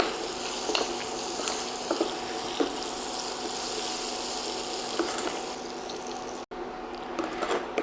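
Butter sizzles in a hot pan for butterscotch, a steady crackling hiss with occasional light clicks of stirring, holding evenly before a brief cut and fading slightly toward the end.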